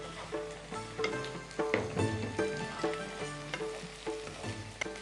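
Onions and pieces of yam (kanda) sizzle and crackle in a hot pan, with repeated spatula stirs and clinks over a steady frying hiss, close and clear.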